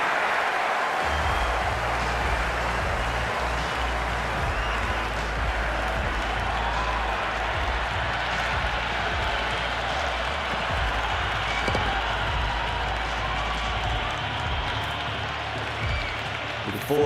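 A stadium crowd at an India versus Pakistan T20 World Cup final cricket match roars and applauds in a loud, sustained wash of cheering and clapping that holds steady throughout.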